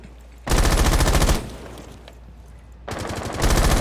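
Two long bursts of rapid SMG-11 automatic fire in a tactical shooter esports match, loud and close, with a quieter pause between the bursts.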